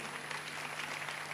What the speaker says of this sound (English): you can clap if you want to clap. Clap well.